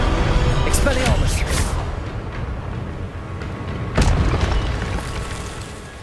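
The Expelliarmus spell is cast in the Hogwarts Legacy video game, heard as bursts of magical whooshes and booming impacts, with a sharp blast partway through over a dense, rumbling game soundscape.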